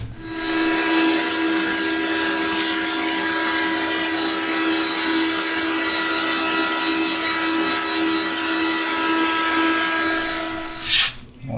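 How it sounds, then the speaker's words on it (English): A wood planer smooths a board edge while building a Shaker style coat rack, a loud continuous whine with a strong tonal hum throughout, ending in a brief burst as the cut finishes. "I'll just run it over the planer to"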